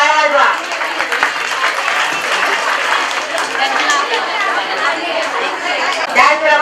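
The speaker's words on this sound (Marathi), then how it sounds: "जोरदार टाळ्या वाजवा" A crowd at a women's Haldi Kunku felicitation gathering breaks into sustained applause, with dense clapping and chatter mixed together throughout.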